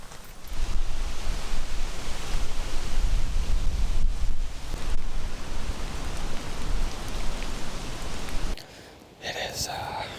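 Steady rain falls on a hunting tree stand on a wet October day, a dense close hiss that holds for most of the stretch before suddenly thinning out near the end.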